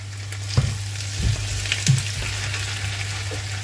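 Sausages frying in a pan with thyme and softened onions: a steady low sizzle runs throughout, broken by a few soft knocks and stirring scrapes.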